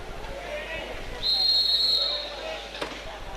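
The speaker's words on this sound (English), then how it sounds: "So the first whistle goes." A referee's whistle sounds one sharp, sustained shrill blast of under a second to start a 200 backstroke race at a swimming meet, heard over a low murmur of arena crowd, followed by a brief splash-like thud.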